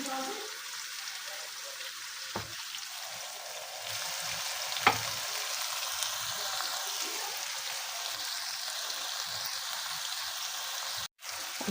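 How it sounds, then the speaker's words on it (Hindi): Yogurt and ground masala frying with fish in a pan for fish curry, a steady broadband sizzle with a few soft scrapes and taps, continuous and fairly close throughout, with no talking. "थोड़ी थोड़ी डाल के ना इसको मैंने भूनना है ताकि दही भी भून जाए और ये मसाला भी, मछली भी भून जाए"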